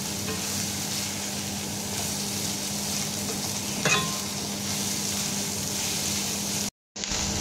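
Pork frying with onion for sisig gives a loud, continuous close-up sizzle with a stir-like rustle midway, then a brief cut to silence near the end.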